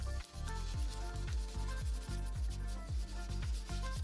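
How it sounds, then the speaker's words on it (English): Sandpaper scuffs over a flat sheet of plastic cut from a bottle in quick, even back-and-forth strokes, roughly three per second. The sound is soft and close, with no speech. "The plastic needs to be sanded a bit using sandpaper."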